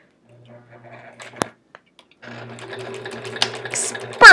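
A sewing machine stitches a quilt label, starting with a few short runs and a sharp click, then settling into a steady close whir with faint handling noises.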